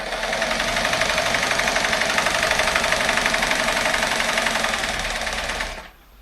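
A Singer 224 sewing machine stitches fabric with a steady, fast mechanical whir and rhythmic needle clatter, running continuously for several seconds before stopping abruptly near the end.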